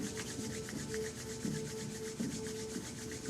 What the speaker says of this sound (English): Let's rub our palms together.